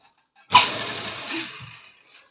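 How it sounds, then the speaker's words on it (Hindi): A sewing machine stitches the lining of a sharara garment in one short run, starting abruptly with a sharp whirring burst that holds steady and then winds down, heard close and alone. "जहाँ पे सिलाई हमने ख़त्म करी थी वहीं से हमें सिलाई शुरू करनी है"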